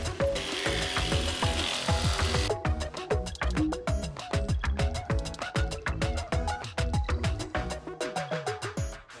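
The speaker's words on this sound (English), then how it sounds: "Ready to jigsaw." A jigsaw cuts through wood during a Sprinter van build, loud and close, with a hissy start that gives way to a fast, rapid chatter of blade strokes sustained throughout.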